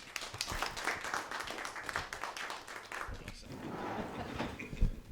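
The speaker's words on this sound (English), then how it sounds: "a round of applause for Kevin now coming up" Crowd applause and clapping fill a real estate seminar event at Mastro's restaurant steadily, a dense patter of hands mixed with voices and cheers, continuing throughout.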